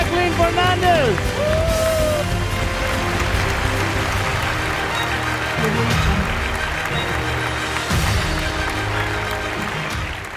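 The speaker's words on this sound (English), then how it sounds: "Round of applause for the one" A crowd applauds and cheers over a bustling mix of voices, the clapping dense and continuous for several seconds with occasional louder bursts.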